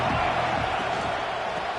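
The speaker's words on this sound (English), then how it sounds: "This crowd ready to make its presence known." A college football stadium crowd roars in a steady, dense wall of noise that holds at full loudness throughout, with no clear breaks or individual voices standing out.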